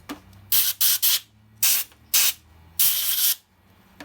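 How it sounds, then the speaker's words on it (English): Compressed air blown into the carburetor of a Trailblazer in short, loud, sharp hissing bursts, about six of them, the last held longest, with no talk. "Let's go ahead and blow some air."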